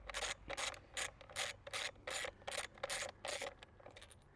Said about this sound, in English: Get our second bolt off here.